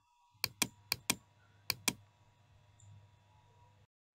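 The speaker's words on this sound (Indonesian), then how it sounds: "tekan kontrol di keyboard lalu klik kemudian tutup enter" Computer keyboard keys, including Ctrl and Enter, are pressed in a quiet room: six crisp, close clicks in two quick clusters, followed by faint low background hum and no speech.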